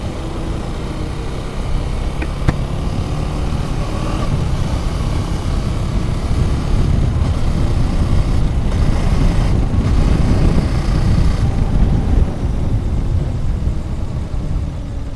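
A 398 cc motorcycle engine runs hard during a power test, a loud, sustained, close roar that holds steady for about fifteen seconds without talk.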